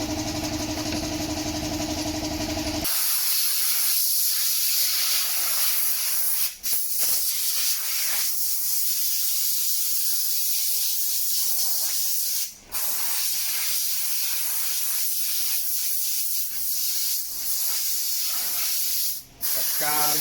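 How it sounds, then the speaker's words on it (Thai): Loud, continuous hiss of compressed air blasting dust off a Toyota Camry Hybrid's radiator in long bursts, with brief pauses and a low engine hum underneath. "เป่าฝุ่นหม้อน้ำให้นะครับ"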